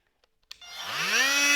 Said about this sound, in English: So I'm going to use my zip tool and just try and clear a bit of material